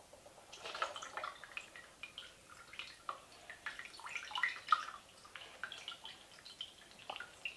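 Water dripping and trickling as it drains off a soaked gel piece, scattered irregular patters and small splashes continuing for several seconds, quiet and close.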